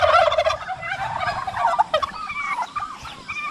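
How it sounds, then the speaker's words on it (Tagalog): Farm turkeys gobbling in a rural province: a dense, warbling chorus of overlapping gobbles, fairly loud and close, running continuously over faint background noise with no voices. "Yung pabo natin mga kaprobinsya."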